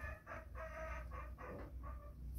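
An F1 hybrid junglefowl rooster in a backyard pen crows and clucks in several loud, close bursts, repeating in a steady rhythm over faint background hum, with no voices.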